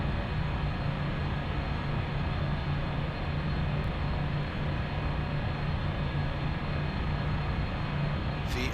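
Steady, droning engine roar of a Thranda Cessna Super Cargomaster on its takeoff run in X-Plane 11 Alaskan bush flying, a constant loud hum with a low tonal whine, unbroken and free of talk.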